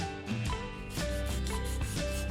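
Sandpaper rubbed over a wood-filament 3D-pen figure after soldering-iron smoothing, a steady close scraping in repeated back-and-forth strokes with rhythmic surges, over faint background music.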